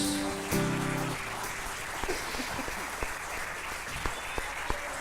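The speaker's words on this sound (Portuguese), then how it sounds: "Vamos aplaudir a Jesus." A church congregation claps together, a dense wash of applause beginning after a brief sustained tone, then thinning into scattered, sharper individual claps toward the end.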